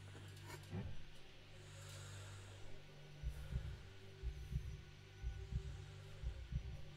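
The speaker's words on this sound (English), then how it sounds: "Let's have a listen to a heartbeat again then." A heartbeat check from The Tartarus Key, a PS1-style horror game, with low thumping beats settling into a steady, regular rhythm under a faint background hum.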